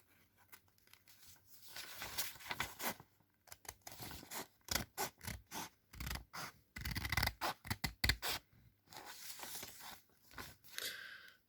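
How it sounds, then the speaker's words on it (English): Scissors cutting paper for a Christmas card make a close series of crisp snips and rustles, bunching into quick runs of cuts with short breaks between them, and no one speaks. "your next step, as I've already started, to cut this in half"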